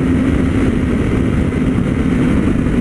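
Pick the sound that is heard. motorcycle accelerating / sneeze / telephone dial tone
motorcycle accelerating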